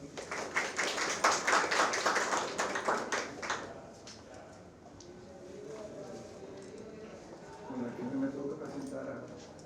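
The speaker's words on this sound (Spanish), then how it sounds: "Un aplauso, por favor." A crowd at a panel discussion for the Eduardo León Jimenes Book Fair National Prize claps in a burst of applause that fades after a few seconds, followed by quiet murmuring and distant voices.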